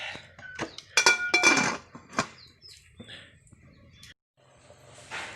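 Metal lid clanking and clinking as it is set back onto a cooking pot of ginataang kamangeg, several sharp knocks and rattles close by, then a pause and a softer hiss.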